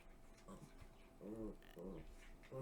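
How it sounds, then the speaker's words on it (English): Dogs play fighting indoors, giving short whiny growls and whimpering vocal bursts, quiet and somewhat distant, with faint background noise between them. "If you guys hear like growling in the background, it's my mom's dogs."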